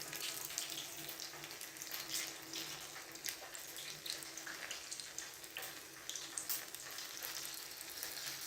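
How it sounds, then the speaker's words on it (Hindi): Tea-time snacks fry in hot oil over a medium flame, giving a steady, fairly faint sizzle and crackle with scattered pops that runs without talk. "अब हम इन्हें फ्राई करेंगे। मीडियम फ्लेम पे आपने इन्हें फ्राई करना है।"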